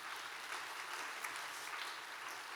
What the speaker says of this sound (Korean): 찬양팀에게 한번 박수를 드릴까요?